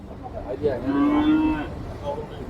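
A cow lets out a single drawn-out moo at close range, rising and holding for about a second before fading, over a quiet rural background.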